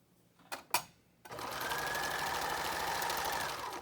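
An old sewing machine stitches fabric for a baby kimono, two short clicks then a steady whirring run of stitching that continues close and even to the end.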